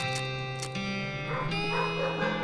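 A dog barks from the background in the West of Loathing video game, a few short yips over steady game music, fairly faint and set back in the mix.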